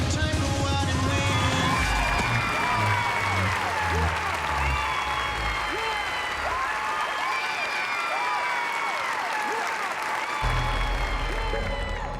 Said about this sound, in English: Was the crowd going nuts? Yes.